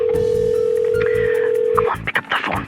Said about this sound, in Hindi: pick up the phone, pick up the phone, pick up the phone Barkha